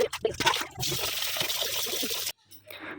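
Prawns are rubbed by hand in a bowl of water with salt and turmeric, giving close, steady sloshing and trickling for a couple of seconds before it cuts off to near silence.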